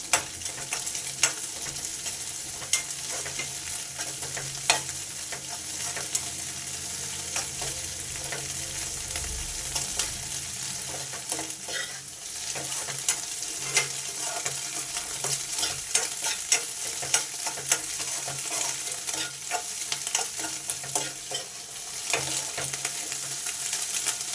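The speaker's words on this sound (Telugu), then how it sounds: "ఇవన్నీ వేసుకున్న తర్వాత మంచిగా మిక్స్ చేసుకుందాం." Egg noodles with salt and chili powder fry in a hot pan with a steady bright sizzle, while a utensil stirs and taps the pan in scattered clicks, close and continuous, no one speaking.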